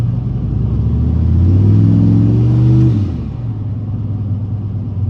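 Car engine fitted with an On3 76/65 ball bearing turbo at half throttle: a close, deep rumble that swells for about two seconds, then drops back to a steady idle drone.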